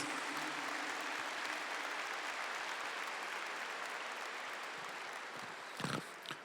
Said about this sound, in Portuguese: vamos aplaudir essa grande graça de Deus